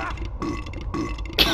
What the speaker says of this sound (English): Burp and slide.